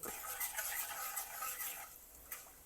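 Mustard seeds crackling and fenugreek seeds frying in hot oil with a pinch of asafoetida, a steady close hiss dense with fine pops and spits that thins out toward the end, with no voices.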